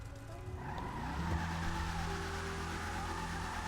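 Bravado Gauntlet Hellfire V8 muscle car from GTA Online producing a low, steady grumbling engine drone with a brief rev swell midway and faint tire noise, heard alone and fairly close.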